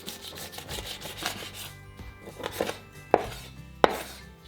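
A knife cutting through the joint of a raw chicken thigh, soft slicing and rubbing strokes close by, followed by two sharp thuds of the blade meeting the board.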